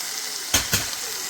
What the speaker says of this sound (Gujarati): હવે આમાં આ વટાણા બાફીને રાખ્યા છે ને એ નાખી દઈશું